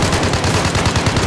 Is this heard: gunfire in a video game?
yes